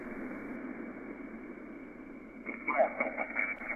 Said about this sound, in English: You can see and hear the interfering station transmitting.